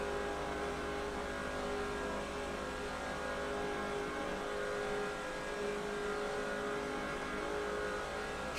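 Race car engine held at full throttle in NASCAR 07 at Daytona, a steady loud drone with a constant pitch for the whole stretch and no shifting, with nobody talking.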